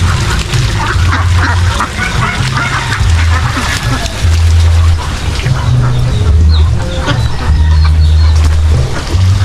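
Ducks calling beside a mini fishpond: a loud, continuous chorus of nasal quacks from several birds close by, with repeated honking calls overlapping throughout.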